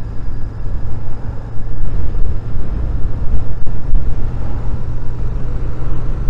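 A Royal Enfield Shotgun 650 motorcycle burbles with a low, steady exhaust rumble at idle or low revs, loud and close, with no talking.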